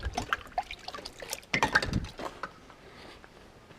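Water sloshes and splashes in a manual tub washing setup filled with heated well water. Irregular wet swishes and trickles come in bursts, then fade toward a quiet finish.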